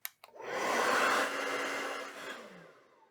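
A handheld hair dryer blows a steady, loud whooshing roar at close range after a couple of quick clicks, the airflow wavering slightly as it is moved around.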